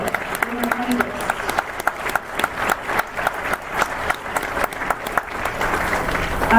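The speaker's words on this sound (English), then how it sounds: "Please give them a round of applause." Audience applause for school band players at a concert, a steady burst of many hands clapping with crowd noise and some voices mixed in throughout.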